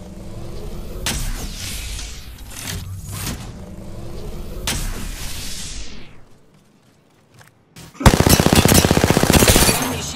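Loud automatic gunfire in the video game Apex Legends, with bursts of rapid shots, a quieter lull near silence, then a sharp, intense final volley of fast rattling fire.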